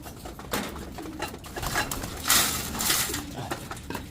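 Pigeons cooing and fluttering nearby, with broadband bursts like wingbeats and some background noise; a person speaks at moments.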